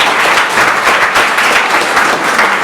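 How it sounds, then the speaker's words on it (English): Audience applause for comedian Charlie Green at a stand-up comedy show, a steady dense burst of clapping from a room of people, close and loud throughout. "So give Charlie Green a round of applause"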